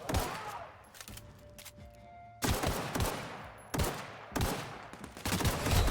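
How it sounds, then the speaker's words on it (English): Gunfire in The Outer Worlds comes in loud, close bursts of rapid shots, several volleys separated by short pauses, with a brief quieter stretch between the first bursts. "Someone's still shooting."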